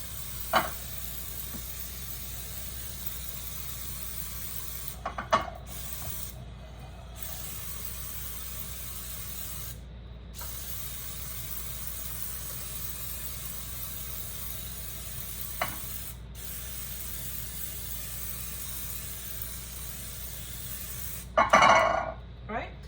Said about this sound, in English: So you just spray the bottom of the pan and the sides really good.